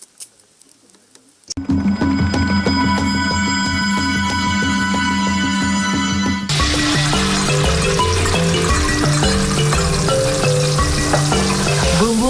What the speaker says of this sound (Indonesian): Bumbu yang telah dihaluskan harus ditumis dulu hingga matang.